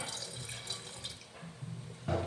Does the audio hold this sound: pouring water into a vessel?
yes